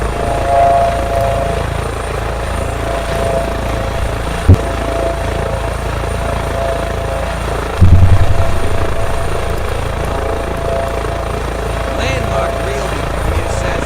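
A helicopter in a flight simulator game flies with a steady, loud rotor and engine drone that runs throughout, with a couple of brief knocks and people talking over it.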